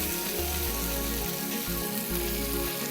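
Minced-meat keema masala frying in a pan, a soft, even sizzling hiss that holds steady for the whole stretch, close by and without voices over it.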